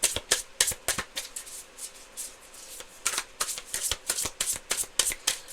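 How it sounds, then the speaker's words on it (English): Tarot cards being shuffled by hand, a rapid run of crisp riffling flicks and taps in a steady, close, uneven rhythm with no speech. "One more shuffle for Gemini."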